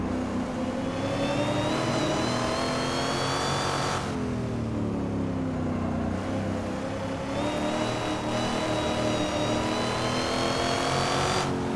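A 650-horsepower Ford Mustang Boss 302 with a race-tuned engine and open exhaust flaps revs in Assetto Corsa. The engine climbs steadily through the revs, drops off at each gear change and rises again, loud and continuous.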